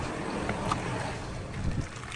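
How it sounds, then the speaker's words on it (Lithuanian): Steady wind blowing over an outdoor farm machinery yard, a continuous broadband rush with gentle swells and no voices. "Vėjas."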